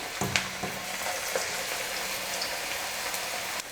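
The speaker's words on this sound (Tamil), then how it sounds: "கொஞ்சம் கொஞ்சமாக நம்ம மாவை எடுத்து எண்ணெயில் போட்டுக்கலாம்." Spoonfuls of onion pakoda batter dropped into hot oil, frying with a steady, close, broadband sizzle that runs throughout, with a few brief splashy bursts as pieces go in.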